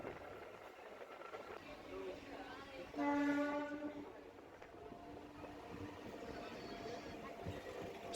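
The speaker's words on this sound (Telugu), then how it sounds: "పెంబర్తి రైల్వే స్టేషన్ దగ్గరికి అయితే వెళ్తుంది ట్రైన్" A MEMU train arriving at Pembarti railway station rumbles along, sounding one clear, sustained horn blast partway through, with a voice talking over the running noise.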